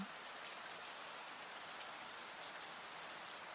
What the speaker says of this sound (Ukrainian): Починається дощ.